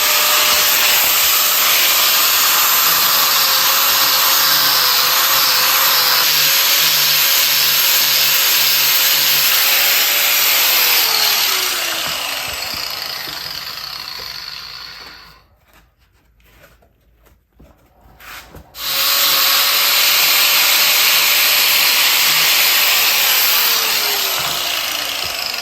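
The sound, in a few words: grinder shaving down motorcycle seat foam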